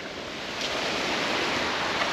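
Ocean surf rolls in along a cobblestone coastal road in Uruguay, a broad steady wash of breaking waves that swells slightly and holds loud and close, with no voices.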